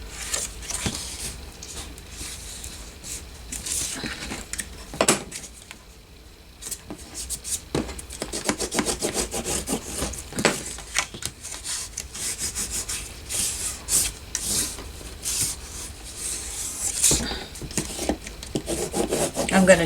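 A folded paper file folder is burnished down with steady rubbing, producing close, continuous scraping strokes with brief pauses. No one speaks.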